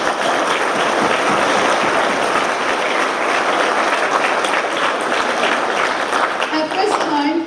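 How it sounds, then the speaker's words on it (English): A loud, sustained round of applause at a high school graduation ceremony, with dense clapping from a large crowd filling the whole stretch and some cheering voices mixed in. "Round of applause for everyone."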